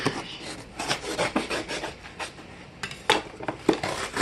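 A freshly sharpened knife slices open a cardboard package in a rusty wrenches unboxing, giving scratchy, rasping cuts and rubs in uneven bursts with a few sharper ticks, close and moderately loud, with no talking.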